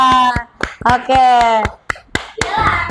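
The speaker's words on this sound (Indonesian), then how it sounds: "Tepuk tangan untuk Jarin, Alinda, dan Deva." A fourth-grade class claps for classmates in an Indonesian-language lesson, a short burst of sharp, close hand claps mixed with children's chatter and a teacher's voice speaking over them.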